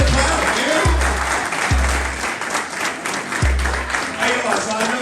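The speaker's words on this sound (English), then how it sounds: "give me a little clap, man" A group at a tech school event clapping steadily, moderately loud applause that continues throughout, with low thumps recurring underneath.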